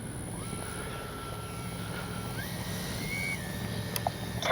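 An FMS 70mm A-10 Thunderbolt II V2 RC jet with twin electric ducted fans takes off on its maiden flight, a steady whine that rises in pitch as it spools up, with a brief knock near the end.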